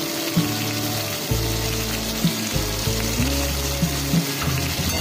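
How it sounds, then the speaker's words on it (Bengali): Capsicum fries in hot oil with tempering spices for a vegetarian moong dal and pointed gourd ghonto, giving a steady close sizzle with occasional clicks from stirring. No voices. "ক্যাপসিকামগুলো এই ফোড়নের সাথে একই সাথে আমি ভেজে নিচ্ছি।"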